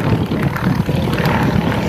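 A Yak-52 propeller plane flies aerobatic vertical figure-eights at an Air Fleet Day show in Blagoveshchensk. Its engine gives a steady, loud, rasping drone throughout, with faint voices underneath.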